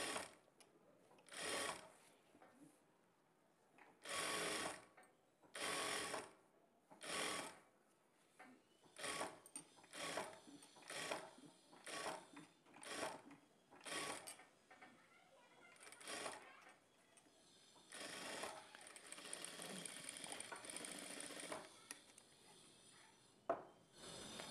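A sewing machine stitches along a blouse shoulder in short, quiet bursts, a dozen or so brief whirring runs separated by pauses, ending in a longer continuous stretch.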